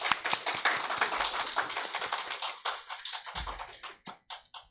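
A church youth group claps to welcome a new member who has finished the newcomers' class, a lively patter of hand claps that thins into a few scattered claps near the end.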